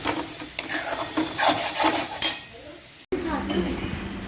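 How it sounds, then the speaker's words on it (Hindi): A spicy potato and cauliflower curry cooks with onion, garlic, ginger and chilli: a spoon stirs and scrapes the pan in uneven strokes, with a light sizzle and clinks of utensils, close and moderately loud. "तो मसालेदार सब्ज़ी बना रही हूँ मैं"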